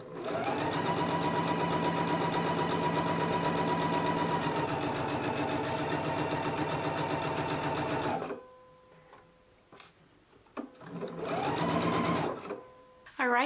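A sewing machine runs steadily at a quarter-inch seam on the sleeves of a True Bias Roscoe blouse, a loud continuous whirring hum that stops, then restarts briefly near the end.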